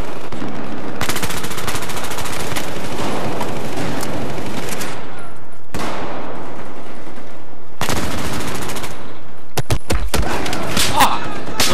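Loud bursts of automatic gunfire from the video game Battlefield 4 come in long sustained volleys with short gaps, close and heavy, with a few sharp single shots near the end.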